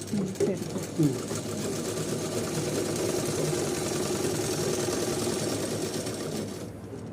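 A sewing machine stitches fabric lining together in a continuous, loud mechanical whir that runs for several seconds, with someone talking over it in places.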